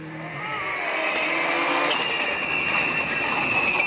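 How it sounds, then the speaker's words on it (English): Rally car at speed on a stage, a steady loud engine drone with tyre squeal and skidding noise rising partway through as it spins, no talk. "we lose Sebastian Ling in this stage when his car spins out"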